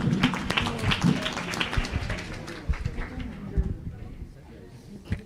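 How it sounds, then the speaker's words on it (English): Audience applause after a devotional chant at an ISKCON Bhagavad Gita gathering in Coventry, a burst of clapping that fades out over a few seconds with some background voices underneath. "Round of applause for that."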